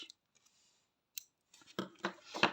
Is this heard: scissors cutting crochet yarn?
yes